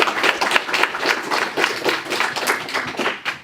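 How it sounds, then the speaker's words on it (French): A small group claps steadily in quick, uneven bursts for a few seconds, fairly close and with no voices over it. "Faites un tonnerre d'applaudissements pour Maïs"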